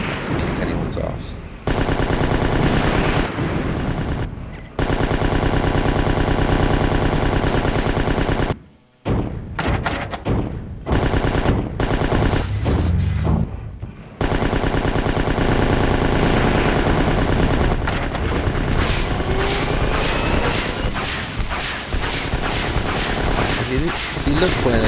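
A machine gun fires in the Dreamcast game Slave Zero as long, dense, loud bursts of rapid shots, broken by brief pauses, with someone talking over the gunfire.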